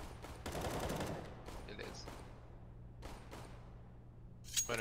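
Bursts of rifle and automatic gunfire in Counter-Strike on the Mirage map, several quick volleys at moderate distance, fairly quiet, with a louder crack at the end.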